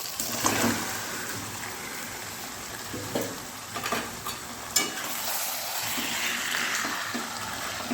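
Chicken stirred into cooked spice paste in a pan, giving a steady moderate sizzle and frying crackle with intermittent scraping stir sounds, no speech.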